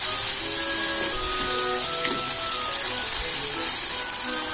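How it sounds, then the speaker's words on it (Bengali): Chili paste and dried chili powder frying in a pan for a potato curry, giving a steady, close, bright hiss with no talk. "এখন এটাকে ভালোভাবে ভাজতে হবে।"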